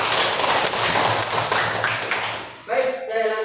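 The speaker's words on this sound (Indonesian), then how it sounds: "Tepuk tangan dulu untuk kita." Classroom audience applauding a presenting teacher, a dense burst of clapping filling most of the moment before tapering off, with a voice speaking over the end.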